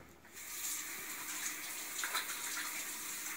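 Tap water runs steadily into a sink while hands are washed in a home kitchen, a close, continuous hiss and splash with slight shifts as the hands move under the stream.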